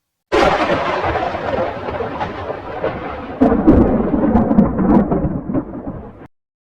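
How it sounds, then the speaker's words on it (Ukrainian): Deep rolling thunder rumbles continuously through a storm, loud and close, with a fresh heavy crack midway before fading out. "Це гуркучий грім."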